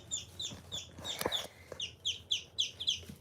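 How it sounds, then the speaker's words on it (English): Pet ducks squawking and quacking in a rapid run of sharp, repeated calls, close and fairly loud, with scattered soft thumps beneath. "They probably will squawk, quack, whatever they're doing"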